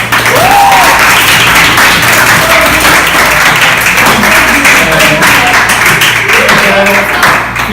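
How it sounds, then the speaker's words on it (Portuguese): A class gives a loud, continuous round of applause for a student group, dense clapping close by with some voices talking and calling out underneath. "vocês merecem uma salva de palmas"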